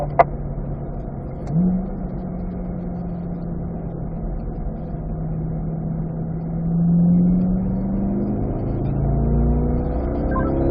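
A Chevrolet Corvette on a race track, in-car, drops to third gear: a steady engine drone with a brief blip in revs as it downshifts, then held engine tone that swells and settles, no talking.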